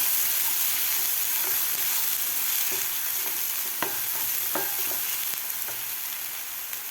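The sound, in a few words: sautéing green masala paste on medium gas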